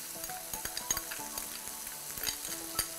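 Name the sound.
garlic added to pan and frying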